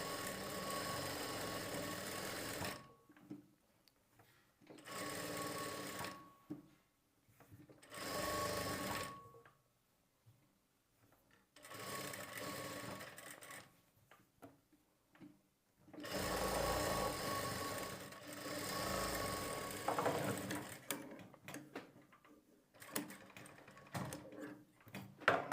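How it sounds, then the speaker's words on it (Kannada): Sewing machine stitching a sleeve onto a garment in short bursts, a steady close mechanical whirr starting and stopping several times with quiet pauses between runs. "ಸ್ವಲ್ಪ ಸ್ಟಿಚ್ ಮಾಡಿ ಸ್ಟಾಪ್ ಮಾಡಿ ಚೆಕ್ ಮಾಡ್ತಾ ನಾವು ಸ್ಟಿಚ್ ಮಾಡ್ಕೊಳ್ಬೇಕು"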